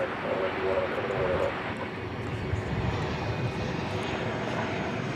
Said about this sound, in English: American Flight 78 is poised for takeoff